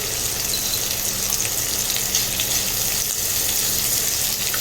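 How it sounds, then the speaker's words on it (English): Sausages frying and browning in a pan, a loud continuous hiss and crackle of sizzling fat, close and unbroken, with no one talking. "we're gonna let these sausages cook a little bit and brown"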